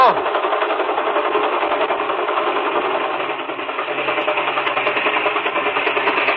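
A small airplane engine drones steadily as the plane comes in to land on flat ground, a continuous buzzing, rattling hum at close range with a slight dip midway, and voices talk over it.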